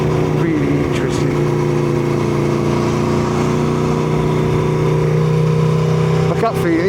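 An Aprilia Tuono V4 1100 Factory motorcycle with a loud aftermarket exhaust idles and rumbles steadily nearby, a thick continuous engine drone with a brief throttle blip near the end.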